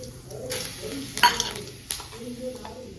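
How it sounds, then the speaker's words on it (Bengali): Cumin and fenugreek seeds dropped into hot oil in a home kitchen, giving a light sizzle with scattered crackles and pops and a brief clink of utensils against the pan, heard close up. "এদিকে তেল গরম হয়ে গেছে। এখন আমি দিয়ে দেবো জিরা, দিয়ে দেবো মেথি,"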